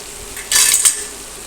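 Garlic-and-spice chutney for a bitter gourd curry frying in a pan, heard as a brief scrape or clatter of a spoon stirring over a faint sizzle, lasting under half a second.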